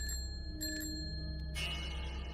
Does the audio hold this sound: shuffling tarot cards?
no